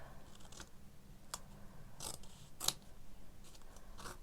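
Scissors trim material during a craft class, giving a few short, crisp snips spaced about a second apart against a quiet background with no talk.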